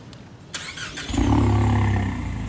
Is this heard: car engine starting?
yes